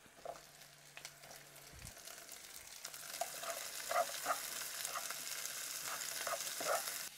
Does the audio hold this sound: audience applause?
no